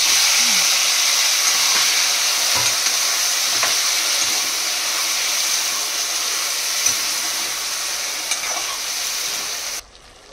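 Tomato and turmeric fry in hot oil with onions for an egg gravy, a loud, continuous close sizzle and hiss with a few faint utensil taps underneath.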